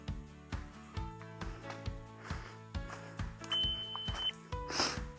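A laser level receiver clipped to a pole while setting grade for a poured screened-in patio gives rapid, regular beeps, about two per second, with a few longer tones near the end, faint and close.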